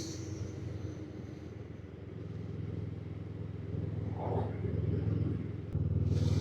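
Low, steady drone of a low-slung motorcycle's engine while riding, with rumbling wind noise that swells slightly toward the end; nobody speaks.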